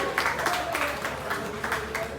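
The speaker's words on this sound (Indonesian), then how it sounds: "tepuk tangan untuk Siska Saras" Brief audience applause at a film press conference, with a few clusters of claps over a background hum, moderately loud and short.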